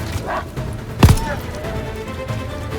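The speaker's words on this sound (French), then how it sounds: "Des chiens!" Dogs barking in the Call of Duty Vanguard game, one sharp bark standing out amid a busy game soundscape, with a voice speaking over it.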